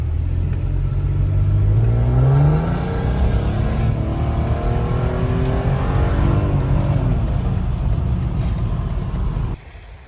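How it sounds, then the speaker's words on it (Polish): A 2001 Mercedes C32 AMG estate car engine while driving, a loud steady drone that climbs in pitch as it accelerates and shifts gears, heard from inside the cabin and cutting off abruptly near the end. "Dzisiaj jadę idealnym pojazdem do pracy. Mercedesikiem, bardzo ekonomicznym."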